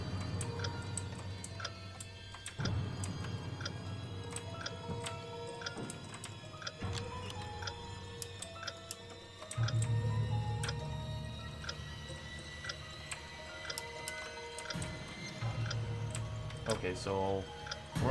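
A clock-like timer ticks in a horror video game set in a school, a steady, even tick-tock running throughout over a low droning musical background.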